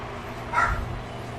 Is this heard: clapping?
no